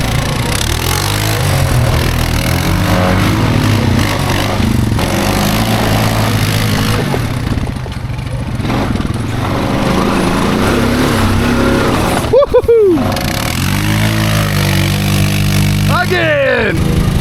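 A Honda off-road vehicle on 32-inch tires revs hard through thick clay mud holes, its engine droning loud and close with rising and falling pitch sweeps, while people talk over it.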